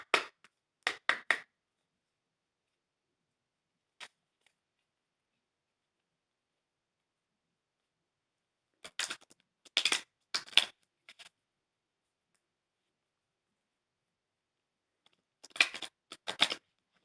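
Short bursts of riffling playing cards being shuffled during a tarot-style reading, three separate clusters of crisp, close ticking flutters with silence in between.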